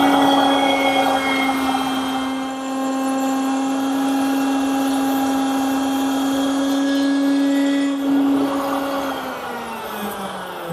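A router table cuts a stopped dado into wood, a steady loud motor whine with a constant pitch holding through the pass, shifting slightly near the end as the piece is lifted away. No talking.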